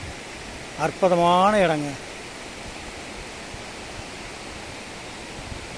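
Steady broadband rush of a waterfall flowing through a forest of large trees, loud and continuous throughout, with a brief spoken phrase near the start.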